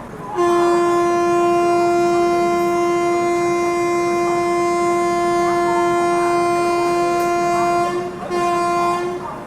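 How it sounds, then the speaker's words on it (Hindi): The Purushottam Superfast Express departs Hijli station, sounding a loud, close horn that holds one long tone for several seconds, breaks briefly near the end, then resumes, with no voices. "हिजली से भी निकलने का सिग्नल अपनी ट्रेन को लगभग 10 मिनट रुकने के बाद यहाँ पर मिल चुका है"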